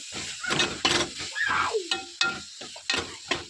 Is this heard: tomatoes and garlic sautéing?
yes